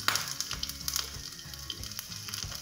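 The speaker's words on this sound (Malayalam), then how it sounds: "വെളിച്ചെണ്ണ ചൂടാകുമ്പം ഒരു കഷ്ണം ചുവന്നുള്ളി അരിഞ്ഞത് ഇട്ട് മൂപ്പിക്കണം" Chopped shallot frying in hot coconut oil throws off a close, crackling sizzle, with rapid irregular pops and spits running throughout over a steady frying hiss.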